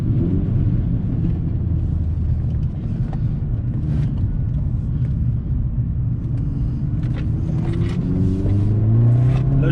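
An Opel Astra OPC with 180 horsepower runs at full throttle, its engine droning steadily from inside the cabin with deep rumble and rising revs toward the end.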